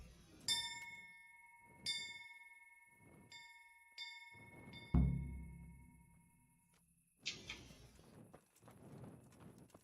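Town hall bell in the medieval game Kingdom Come: Deliverance, several bright ringing strikes with long sustained tones, spaced a second or two apart, mixed with heavy clip-clop of horse hooves and thumping footsteps nearby.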